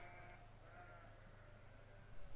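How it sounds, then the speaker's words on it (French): Lambs bleat on a sheep farm in the Farming Simulator 15 video game, a steady synthetic bleating over a constant low hum with no talk. "Ce sont les agneaux."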